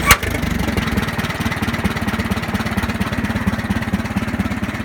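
An Oliver tractor engine with a poorly sealed exhaust where it elbows into the muffler idles low and steady, a loud, close, even chugging pulse that keeps the same rhythm throughout after a brief knock at the start.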